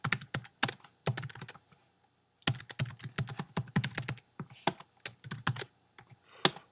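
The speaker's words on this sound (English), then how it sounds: "then I can type in the other parts of the SAS program" Computer keyboard typed on close up in quick bursts of crisp key clicks, separated by short pauses, while a SAS program is entered.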